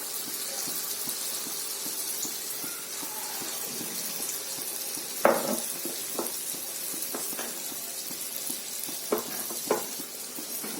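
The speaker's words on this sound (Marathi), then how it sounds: "छान ब्राऊन कलर आपण त्याला तळून घेऊया" Small wheat-flour gulgule sweets deep-frying in hot oil, a steady broadband sizzle with a few sharp knocks and clinks from a utensil against the pan scattered throughout; no talking.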